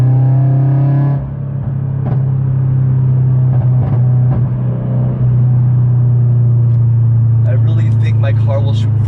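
A Subaru BRZ with a new front pipe and over pipe, no catalytic converters and a single resonator, holds a steady, loud, low exhaust rumble close by, with scattered pops and a voice talking over it.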